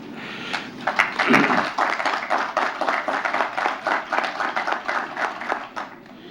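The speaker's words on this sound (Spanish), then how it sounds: "a quien le pido por favor un aplauso." Audience applause at a human rights reform panel, a steady wash of many hands clapping that swells early, holds, and then thins out at the end.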